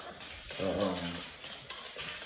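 Exotic bully puppy whimpering once at close range, a short, tonal whine with a rising-falling pitch over quiet background rustle.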